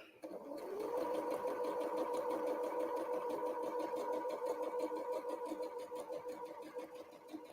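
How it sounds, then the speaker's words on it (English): Sewing machine stitching a straight quilt block seam, a steady fast mechanical whir with rapid needle ticking that spins up quickly and runs evenly for several seconds, close and moderately quiet. "And just sewing straight along."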